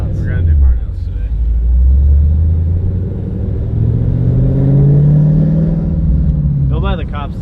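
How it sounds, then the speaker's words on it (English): A Chevrolet Camaro holds a loud, sustained engine roar with rising revs, as heavy for a burnout, rumbling steadily for several seconds before easing; people talk briefly at the start and end. "We're gonna do burnouts today."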